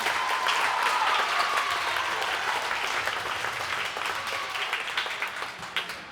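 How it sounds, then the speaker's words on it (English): An audience at a school band Christmas concert claps in a sustained round of applause, dense and loud at first, then thinning and tapering toward the end. "One more round of applause for all of these students."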